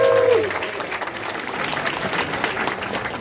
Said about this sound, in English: Big round of applause for our winners.